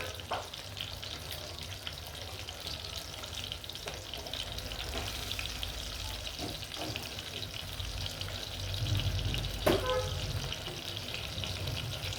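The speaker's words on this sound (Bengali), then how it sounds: "তেলটা গরম হলে মাছ দিব আমি এখন মাছটা দিয়ে দিব" Hilsa fish fries in hot mustard oil in a home kitchen, a steady close crackling sizzle that swells a little near the end and carries a few light utensil knocks.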